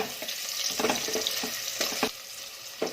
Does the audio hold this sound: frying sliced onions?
yes